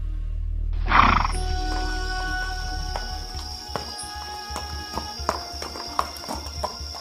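Several horses clatter into motion with a hard onset of hoofbeats and a neigh, then uneven clip-clopping and scattered knocks continue fairly close by in a tense medieval-style escape scene, with no talking.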